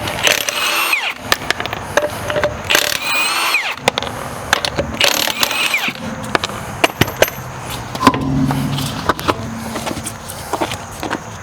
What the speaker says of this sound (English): now we'll go ahead and take off these lug nuts